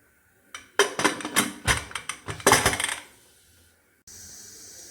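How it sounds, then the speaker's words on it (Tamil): A pressure cooker lid is fitted and locked shut, giving a quick run of sharp metallic clicks and clatters over about two seconds, close and fairly loud, then quiet. "இனி குக்கர் மூடி வச்சுக்கலாம்."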